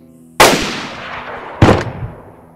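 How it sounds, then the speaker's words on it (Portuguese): Two loud, sharp gunshots in the survival video game DayZ, the first ringing out with a long decaying echo and the second following about a second later, with no talk. "Não, olha esse tiro, velho."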